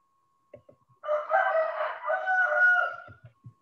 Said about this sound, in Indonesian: ada yang berkokok juga ikut kuliah